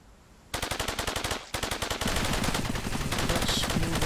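Rapid automatic gunfire in the Cepheus Protocol video game, bursts of fast shots starting abruptly, pausing briefly, then continuing as dense sustained firing with added impacts, loud and close.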